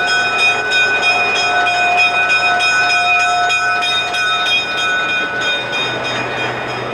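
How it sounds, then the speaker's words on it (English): Big train approaching, carrying a sustained multi-tone chord, like a horn or ringing bell, over a steady low rumble, loud and close throughout. "so they notice the train coming."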